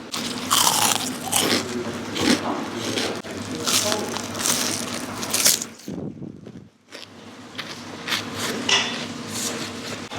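Loud, crisp crunching from bites into crispy fried chicken, repeated in close succession, with a brief pause midway before the crunching resumes.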